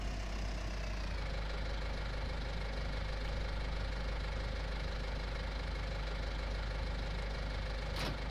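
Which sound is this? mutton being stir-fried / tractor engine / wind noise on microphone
tractor engine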